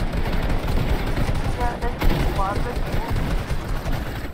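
Rapid P90 bursts crackle in a Fortnite match, a dense, continuous rattle of gunfire with a few sharper cracks, heard under and between excited talking from players.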